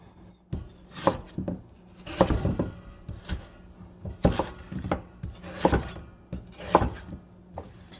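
A kitchen knife chops radish into large chunks on a cutting board for kimchi, with a series of close, irregular thuds and knocks and brief pauses between cuts.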